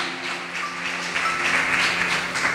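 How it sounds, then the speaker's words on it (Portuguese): A church congregation applauds during a service, a continuous blurred patter of many hands under a faint sustained tone, steady and moderately loud. "Vamos aplaudir ao Senhor."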